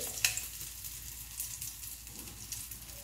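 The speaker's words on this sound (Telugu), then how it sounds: "సన్నటి సగం మీద వేయించుకుంటే చాలా బాగుంటుందండి" Mango jamuns fry gently in ghee over a low flame, giving a soft, continuous close-up sizzle with faint crackles and no talking.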